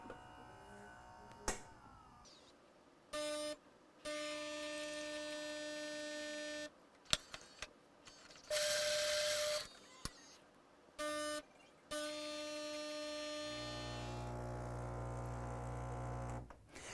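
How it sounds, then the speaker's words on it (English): A Gaggia Velasca espresso machine runs a double brew cycle: steady humming pump and motor tones in bursts of a few seconds separated by short pauses, then a lower, heavier drone toward the end, close and fairly loud with no talk. "the machine is about to perform a ×2 brew cycle"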